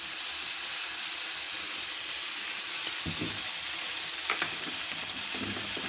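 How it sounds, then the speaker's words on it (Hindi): Sliced onions fry in hot cooking oil in a kadhai, a steady loud sizzle and hiss with a few clinks of a spoon stirring. "अब हम इसमें ऑयल ऐड करेंगे और इसको हम फ्राई करेंगे प्याज को"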